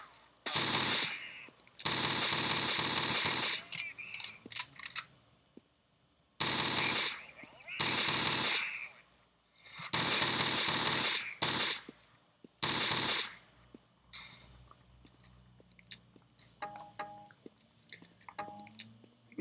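Weapons fire in the video game Marathon comes in several loud, sustained automatic bursts, each lasting a second or two and separated by short pauses, followed by quieter scattered clicks and game effects.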